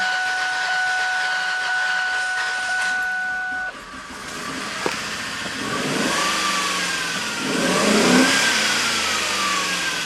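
A 1999 Ford Taurus SHO with welded cams turns over and catches, then its engine revs up and down in rising, falling surges, loud and close, after a brief high whine at the start.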